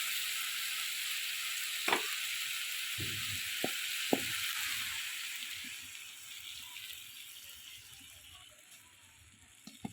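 Pointed gourd and potato fry with canal prawns in hot oil, a steady bright sizzle punctuated by several sharp clicks and scrapes of a utensil against the pan, the sizzle gradually easing.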